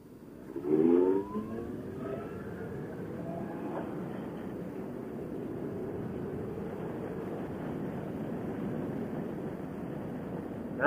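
A Kawasaki Concours 14 motorcycle engine hums steadily while riding, with a brief louder rise near the start, then an even, continuous drone mixed with road and wind rush.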